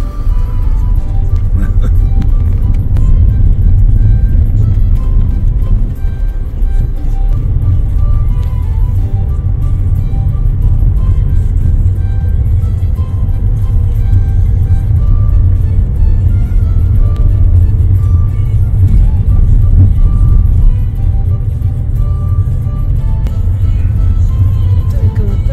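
A car drives along a narrow lane in Cornwall, its steady low engine rumble and road noise filling the whole stretch at close range without a break.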